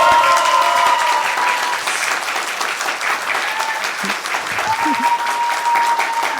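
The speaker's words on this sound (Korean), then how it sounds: "여러분 지금까지 고생해준 우리 이재명 시장님께 여러와 같은 박수 다시 한번 부탁드리겠습니다" Loud, continuous applause from an audience honoring Seongnam mayor Lee Jae-myung at a public talk, with a few voices and cheers rising over the clapping.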